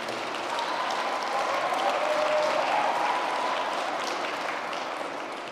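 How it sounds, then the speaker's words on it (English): Audience applause at a university president's installation ceremony, a broad, sustained wash of clapping from a crowd that swells in the middle and eases slightly toward the end, without speech. "Let's give her another round of applause"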